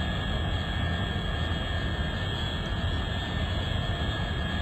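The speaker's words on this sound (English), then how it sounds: "those engines are really ramping up. You can hear them getting louder and louder." Spacecraft engines in the Orbiter 2016 space-flight simulator game: a steady, dense roar with a constant high whine running throughout, unchanging in level and heard alone without talk.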